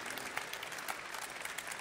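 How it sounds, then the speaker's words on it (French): An audience claps steadily and evenly at a press conference at the Geneva International Motor Show, sounding a little distant in a large room. "Vous pouvez les applaudir"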